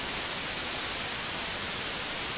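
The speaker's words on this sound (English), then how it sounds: "you get one constant white noise" Constant white noise from a synth in FL Studio, a steady, loud, even hiss across the whole range that holds unchanged and then cuts off abruptly at the end.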